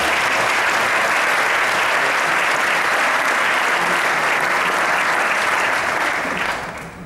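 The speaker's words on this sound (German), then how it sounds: "Ein riesen Applaus" Loud, dense audience applause at a live fitness and sports event, a continuous wall of clapping that lasts about six seconds before easing off at the end.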